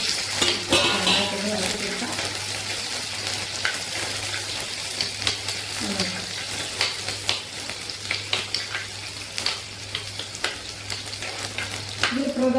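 Eggplant pieces fry in a pan for a dried fish curry, giving a close, steady sizzle broken by stirring clicks and scrapes, with a faint voice surfacing briefly now and then.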